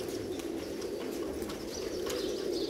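Pigeons, a crested breed, coo and chirp through a steady, moderately loud stretch of outdoor noise, with brief soft flutters that may be wings. No one talks.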